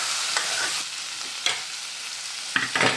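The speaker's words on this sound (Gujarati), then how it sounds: "મશરૂમ મશરૂમને મિક્સ કરીને રેવા દેવાનું છે" Mushrooms are stirred in a hot pan, giving a steady, close sizzle with a few brief scrapes of the spoon against the pan and no talk.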